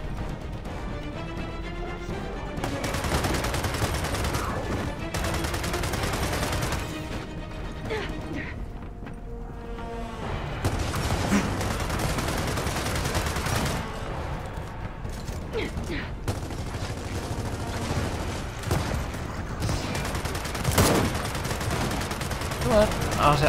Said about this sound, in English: Marcus didn't have a fit and started shooting at a wall.